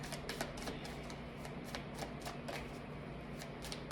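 Tarot cards shuffled in steady rapid riffles and flicks, a continuous close papery rustle with sharp card snaps, alone with no voices.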